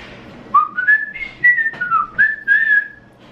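A person whistles a short, bright melodic phrase of rising and sliding notes, clear and close, with no talking.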